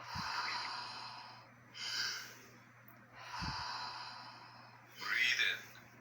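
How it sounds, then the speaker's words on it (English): Deep Wim Hof-style breaths, close and airy, move in a slow rhythm: long inhales and exhales, with two sharper, louder breaths standing out. "Breathe in, breathe out."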